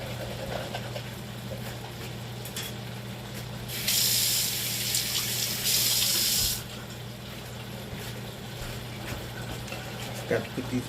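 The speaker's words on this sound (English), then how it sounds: "This is the bowl I had the vegetables in. I just had to rinse it out." A bowl that held vegetables gets rinsed under a kitchen tap. Running water rushes and spatters for a few seconds in the middle, loud and close, with quieter background noise before and after.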